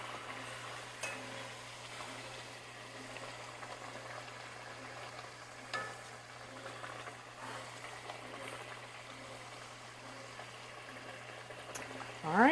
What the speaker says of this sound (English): I'll finish frying these up